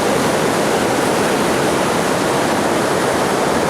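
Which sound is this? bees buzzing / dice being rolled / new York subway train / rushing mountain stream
rushing mountain stream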